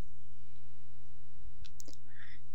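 A couple of faint, brief computer mouse clicks sound on a Windows PC over a constant low electrical hum.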